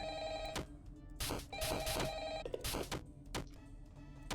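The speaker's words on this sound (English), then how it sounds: "I'll let the phone call play out" A telephone rings repeatedly in the horror video game Five Nights at Frickbears 3, with evenly spaced electronic rings at low volume and no voices.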